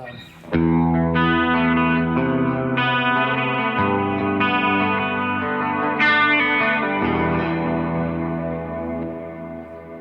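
An electric guitar played through an M1 modulation effects pedal on a studio and worship pedalboard rings out in loud, sustained chords that shift every second or two, with a wide chorus-like shimmer and no voices.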